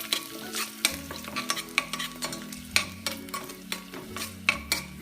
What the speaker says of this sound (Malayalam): ഇതിലേക്ക് ഞാൻ സാമ്പാർ പൊടിയാണ് ഇടുന്നത്